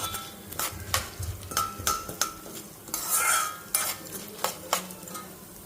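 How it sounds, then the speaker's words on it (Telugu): Coriander seeds stirred and dry-roasted in a pan with chana and urad dal, for curry leaf spice powder; a spoon repeatedly scrapes and clinks against the metal in uneven strokes over a low, steady sizzle, with no talking. "ధనియాలు కూడా వేసి వేపుతున్నాను"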